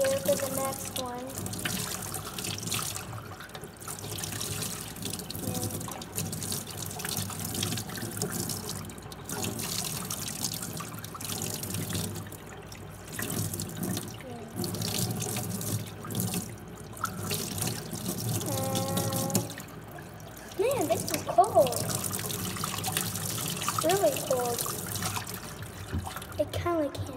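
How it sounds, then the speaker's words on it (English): Tap water runs steadily into a sink while hands are washed, a continuous close splashing and trickling with a voice talking intermittently over it. "I'm washing my hands here for the next one."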